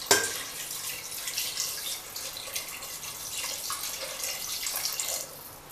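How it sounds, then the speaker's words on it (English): Water pours from a tap into a pressure cooker pot of veal and mushrooms, a steady splashing hiss close by that tapers off at the end. "I'm going to add a little bit of water just to make sure that my meat is covered."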